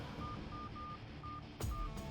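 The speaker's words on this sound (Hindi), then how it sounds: "विजय को फोन लगा।" Telephone keypad tones sound as a phone number is dialed, a series of short evenly spaced beeps, followed by a brief burst of noise near the end over a quiet background.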